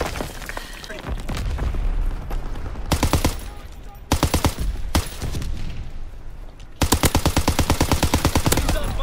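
Rapid automatic gunfire in the Call of Duty video game, several loud bursts and sustained streams of shots over continuous game background noise, with no talking.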